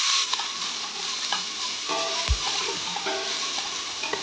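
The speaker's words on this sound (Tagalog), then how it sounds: "haluin lang natin" A spoon stirring hot oil in a pot before making homemade fish maw soup, a steady close sizzle with scattered clinks and scrapes against the metal, no voices.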